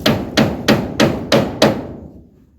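Five heavy hammer blows strike nails into a post during roof building, spaced at an even rhythm, loud and close, each ringing briefly before the last one fades away.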